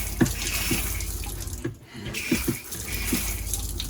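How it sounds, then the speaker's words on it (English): Filtered rainwater pours steadily from a foot-powered faucet shower, a close, continuous rush of running water with a few soft knocks underneath. "Rainwater shower. Filtered and cleaned."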